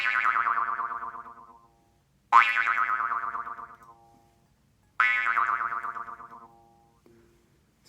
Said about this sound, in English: That's how you make a wiggle sound too. You go back and forth.